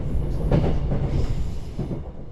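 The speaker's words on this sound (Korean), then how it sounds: "태백선과 정선선을 통과하는 이 열차는 험준한 강원도의 산악지대를 통과하는데요" The Jeongseon Arirang train runs through the rugged Gangwon mountains on the Taebaek and Jeongseon lines, giving a steady close rumble with faint wheel clatter and no talking.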